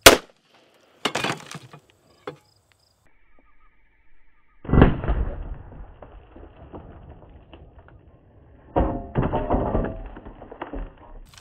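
A Glock 21 pistol fires 230-grain .45 ACP ball rounds into body armor: several sharp, close bangs at irregular intervals, each with a short ringing tail and quiet gaps between.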